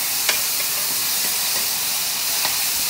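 Mushrooms sauté on a very hot pan, a steady bright sizzle and hiss with occasional soft clicks of stirring, close and continuous without talk.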